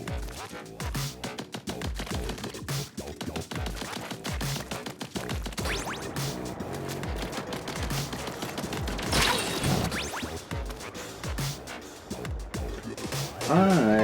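Rapid bursts of ink-shooting from a weapon in the video game Splatoon 3 crackle in quick repeated volleys, close and sharp, with a louder spray of shots near the end over background game sound.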